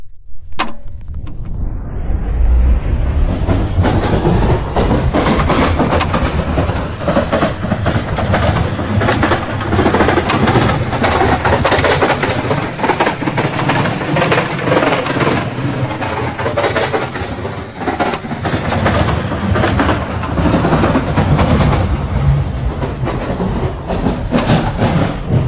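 A Roblox metro train rolls along its rails in a video game, a loud continuous rumble and roar that builds at the start and holds steady for the whole stretch, with faint clicking over it.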